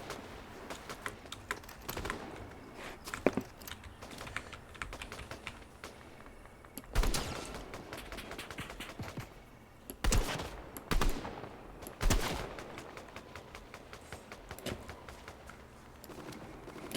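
Video game gunfire in fast rattling bursts, dense clicks with several louder shots standing out, steady and fairly close, with no one talking over it.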